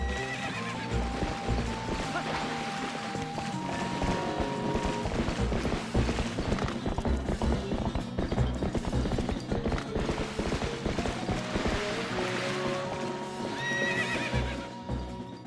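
In the video game The Legend of Zelda: Twilight Princess, a horse neighs and whinnies over clip-clopping hooves and creaking mechanisms, with game music continuing throughout.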